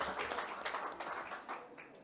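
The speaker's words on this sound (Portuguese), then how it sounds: "Vamos aplaudir o Edson" Audience applause at a public launch event with officials and a mayor present, a steady, moderately distant patter of many hands clapping throughout.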